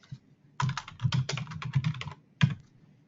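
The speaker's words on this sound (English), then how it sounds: "Click on add." Sharp, close computer clicks while working in bridge design software, coming in quick clustered bursts with short pauses and one last isolated click.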